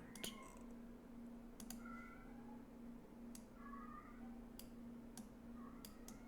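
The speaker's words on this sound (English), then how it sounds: "Apologies if you can hear the cat just screaming his head off for no reason" A cat yowls and meows in repeated short cries somewhere in a room, faint and in the background over a steady low hum with occasional ticking clicks.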